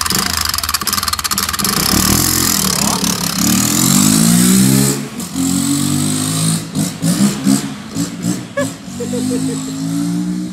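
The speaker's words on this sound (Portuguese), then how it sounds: "Parece que é moto carburada, né?" A Honda XRE motorcycle engine revs hard and close, its pitch climbing and falling through repeated throttle blips before settling into choppy, uneven bursts near the end.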